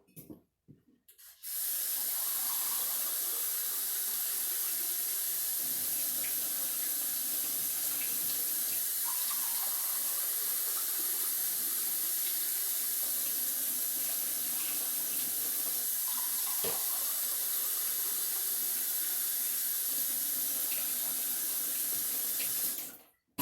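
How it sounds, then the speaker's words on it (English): A kitchen sink tap runs steadily for about twenty seconds, a close, continuous rushing hiss of water filling a container, starting and stopping abruptly with no talking. "Let me just step over here to the sink and get 3 cups of water."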